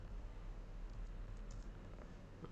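Soft, steady typing on a computer keyboard while coding a data visualization in Python, faint and quiet under a low background hum, with no talking.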